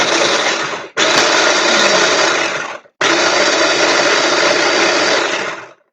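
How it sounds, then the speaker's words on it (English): Oats are ground fine in a kitchen blender, three loud continuous bursts of whirring motor noise separated by brief pauses, close and alone with no talk. "So we're gonna grind those up fine because as you can see, they're small."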